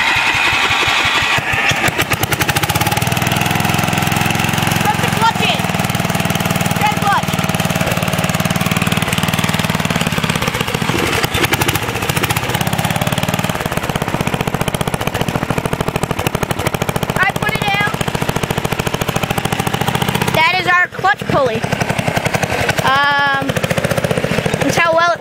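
Loud, steady rattling roar of a 400cc custom go-kart engine warming up, close to the mic, with sharp revving bursts and a brief dip near the end.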